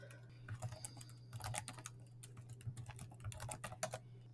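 Rapid clusters of clicking keystrokes on a computer keyboard as a passphrase is typed, close and fairly quiet, in short irregular bursts with brief pauses and a faint steady hum beneath.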